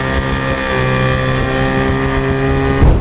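Car exhaust rumbling through its silencer with the engine idling in neutral, a steady close harmonic drone that swells slightly near the end, no talking.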